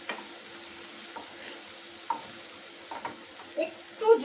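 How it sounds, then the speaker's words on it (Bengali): Chicken masala with turmeric is sautéed in a pan, a soft sizzle under repeated scraping stirs that grow louder toward the end, with no voices. "এবার এটা ভালো করে কষিয়ে নিই, একটু সামান্য একটু কষিয়ে নিই।"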